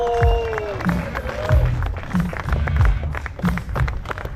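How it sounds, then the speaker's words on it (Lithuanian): At a bikers' night event in Kaunas, an audience claps amid crowd noise, with an announcer speaking over it and low thumps and engine-like tones in the background. "Aplodismentai Kaunui!"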